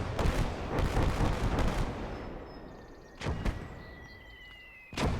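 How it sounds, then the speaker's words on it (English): Rocket artillery strikes a mortar position in the Gates of Hell war game, a rolling series of heavy booming impacts that fades, then two sharper blasts return near the end, with faint whistling tones between. "And now my ally has rocket artillery as a response. And he hits that mortar and absolutely shreks it."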